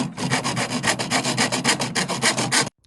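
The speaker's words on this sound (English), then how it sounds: "now I'm taking off from the head end and doing this with a hacksaw." Hacksaw cutting through the slippery nickel tube of a Bb tin whistle, about a dozen quick, even rasping strokes close up, then stopping abruptly.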